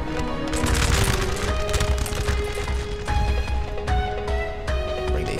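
Cannons fire on infantry amid a Napoleon: Total War battle, with dense gunfire crackling continuously and sharp heavy reports at intervals, loud and close, without talk.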